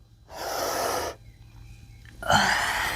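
Slow, deep breaths during a yoga-inspired morning strength and mobility workout at home: a long, airy exhale, a pause, then another strong breath, close and fairly loud with no talking.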